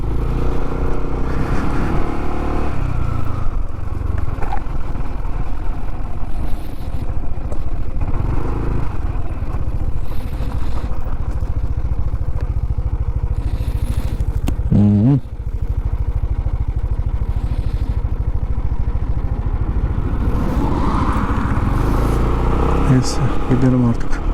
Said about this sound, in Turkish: Biraz daha gidelim bakalım motorla şöyle ileriye doğru.